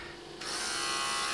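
Electric hair shaver switching on and buzzing steadily at close range, a constant high-pitched whirr that starts after a brief quiet moment.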